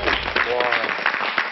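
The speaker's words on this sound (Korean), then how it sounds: "박수 한번 보내주십시오." Studio audience applause on a Korean television variety show: a steady, dense wash of clapping running through the whole short stretch, with voices talking over it.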